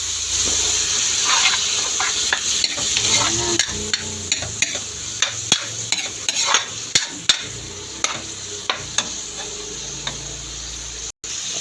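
Ground meat fries in a pan for a mung bean dish, a steady close sizzle with repeated sharp scrapes and taps of a spatula stirring throughout.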